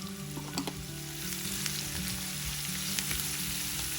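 Sliced onion frying in a pan with salt and turmeric for raw banana fry, a steady close sizzle with occasional stirring scrapes throughout.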